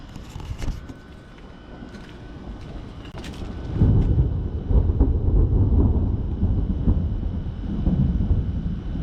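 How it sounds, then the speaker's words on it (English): Low, heavy rumbling swells and rolls on for several seconds, a distant thunder in a dark lightning storm among trees, over a steady windy background with no speech. "It's lightning and thundering."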